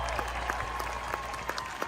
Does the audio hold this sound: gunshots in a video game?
no